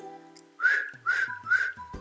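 A person whistles in imitation of a pressure cooker whistle, giving three short, rising whistles in a row, close and fairly quiet, with no talking.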